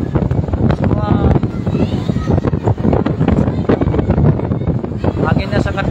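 Powerful dusty wind roars in Mecca during an evening rainstorm, pounding the microphone with continuous loud gusts and rumble as someone talks underneath.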